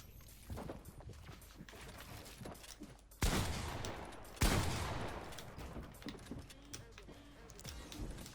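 Video game gunfire aimed at a bot without aim assist: bursts of rapid shots crackle through a noisy game mix, with two louder, sharper volleys standing out midway and quieter pops around them, and a voice faintly present in places.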